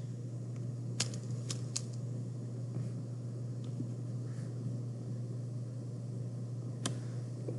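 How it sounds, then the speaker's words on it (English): Calculator buttons tapped during a classroom math lesson: a few sharp, isolated clicks, three close together early and one more near the end, over a steady low electrical hum in an otherwise quiet room. "I really just want to type it all in my calculator."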